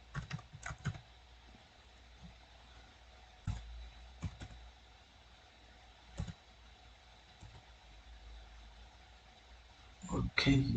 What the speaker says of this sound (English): So if you type collector jobs